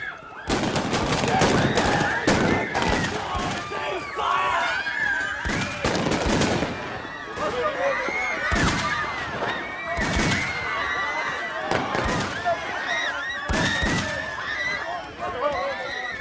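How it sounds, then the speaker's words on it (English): Gunfire at people during the Bloody Sunday shootings, loud volleys of sharp shots and bursts cracking repeatedly through continuous shouting and panicked voices, with a horse whinny among the chaos. "They're shooting people!"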